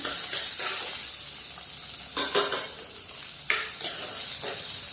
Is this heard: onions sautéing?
yes